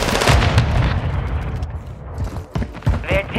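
Frag grenade blast and rapid gunfire in a Call of Duty: Modern Warfare III multiplayer Domination match on the Rust map, a dense, loud barrage of boomy shots and bursts that thin out toward the end.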